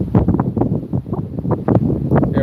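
Strong gusts buffet the microphone outdoors in uneven, rumbling bursts that rise and fall loudly across the whole stretch, with no clear voice over them.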